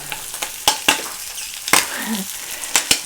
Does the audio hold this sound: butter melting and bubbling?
yes